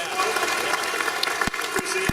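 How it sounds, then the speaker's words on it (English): Audience applause for Chris Enixon at a US Coast Guard aviation centennial awards ceremony: steady, dense clapping from a crowd throughout, with a few sharper individual claps standing out. "So a round of applause, please, for my"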